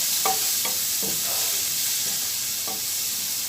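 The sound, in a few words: veal with black pepper sizzling while being browned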